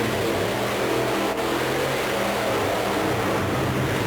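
A Pony Express Mustang monster truck engine roars during a race in Charleston, a dense, loud, steady growl with crowd-like wash and no clear pauses.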